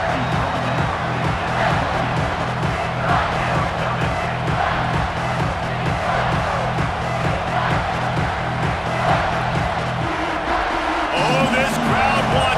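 Simulated stadium crowd roars steadily through a College Football 26 game, Florida Gators vs Auburn Tigers, a dense continuous wash of cheering with a rhythmic pulsing undertone and a shift in texture near the end.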